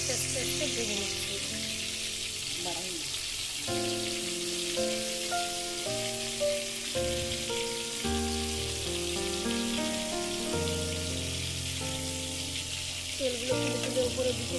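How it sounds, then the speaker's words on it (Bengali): Fish fries slowly in oil over low heat, a soft, steady sizzle running throughout beneath prominent background music. "কিছুক্ষণ এতে একদম পেটের দিক, পিঠের দিক দিয়ে আস্তে আস্তে আস্তে আস্তে ভেজে নিচ্ছি।"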